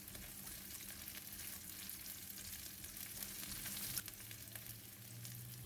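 Garlic and shallots fry in a pan with a soft, steady sizzle and crackle while they are stirred for a prawn and stink bean dish. It is faint but constant, with one small stirring knock and no talking.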